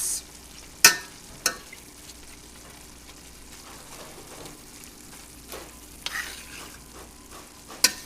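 Ground meat for chimichangas frying in a pan while being broken up, a soft steady sizzle punctuated by several sharp spatula scrapes and taps against the pan, close with no voices.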